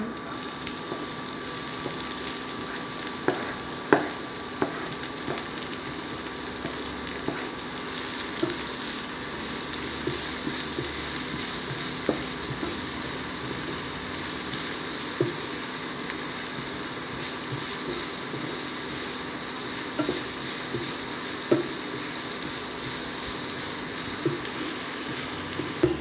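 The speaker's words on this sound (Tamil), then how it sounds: "வெங்காயம் நல்லா வதங்கிக்கிட்டே இருக்கு" Onions sautéing in hot oil in a pan with green chillies while egg bhurji is cooked, a steady close sizzle and frying hiss that continues throughout, with a few faint clicks of stirring.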